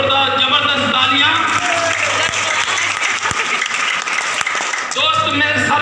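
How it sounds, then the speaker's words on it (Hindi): Dense, loud audience applause fills a Renatus Nova business gathering, steady for several seconds and briefly interrupted, with voices and background music audible at the start and end. "जावेद हुसैन साहब के लिए जोरदार जबरदस्त तालियां"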